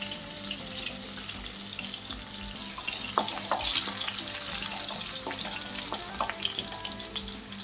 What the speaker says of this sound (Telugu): అలాగే 2 పచ్చిమిరపకాయలు వేసి అవి కొంచెం వేగే వరకు ఇలా కలుగుతుంటూ ఉండాలి.